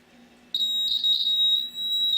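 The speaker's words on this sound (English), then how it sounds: "Let's see what happens if we hook it up to 3 volts." A small piezo buzzer powered at 3 volts gives a loud, piercing, steady high-pitched tone. It switches on abruptly after a faint hum and holds with a slight wavering.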